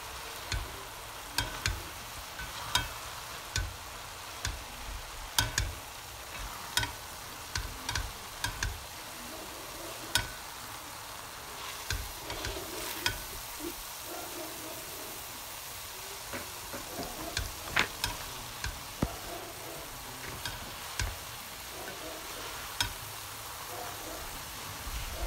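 Sotanghon noodles for pansit are stirred and fried in a pan, with a steady soft sizzle and repeated light scraping taps from the utensil, faint and close throughout.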